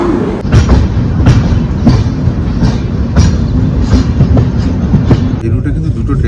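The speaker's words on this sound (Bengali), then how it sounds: "এবার ট্রেন ছাড়বে ভুবনেশ্বর থেকে" A Jan Shatabdi Express train departs Bhubaneswar, rolling along the rails with a loud, continuous rumble and repeated sharp clicks from the wheels passing over track joints.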